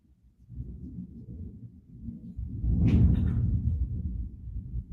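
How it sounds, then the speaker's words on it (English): Thunder rumbles low and fairly distant during a quiet afternoon indoors, swelling gradually and holding as a deep, sustained roll for several seconds. "Yeah, the thunder's back."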